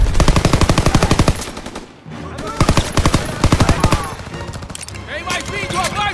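Rapid bursts of machine-gun fire in the Call of Duty WWII video game on PS4 Pro, loud and close, with a pause then further rattling volleys and shots mixed with game voices shouting in the background.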